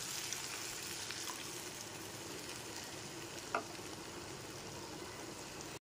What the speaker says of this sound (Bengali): তাই এবার এর মধ্যে দিয়ে দিলাম 1/2 কাপ মতো গরম জল।